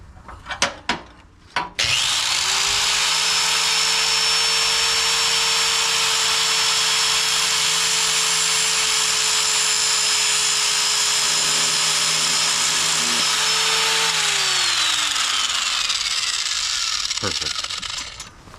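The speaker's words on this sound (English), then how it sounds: "All right, got the grinder." An angle grinder cuts through an ATV plow's steel winch cable, whining loudly and steadily at close range for about fifteen seconds after a few clanks, then winding down.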